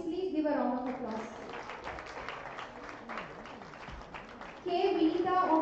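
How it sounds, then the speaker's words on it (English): An audience claps for a best paper award winner at an international conference on applied mathematics, a steady patter of applause sitting beneath and between a voice speaking over it at the start and end. "Audience, please give a round of applause."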